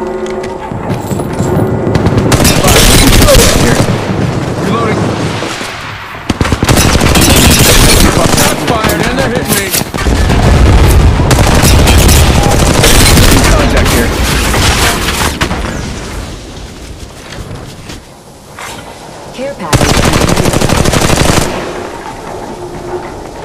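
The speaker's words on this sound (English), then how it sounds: "Making contact here. Open fire." Gunfire in Apex Legends Mobile comes in loud repeated bursts of rapid automatic shots and booms, with pauses between volleys, under occasional game voice lines.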